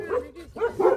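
Street dogs near Muktinath temple in Nepal give a few short, sharp barks in quick succession, fairly close and moderately loud.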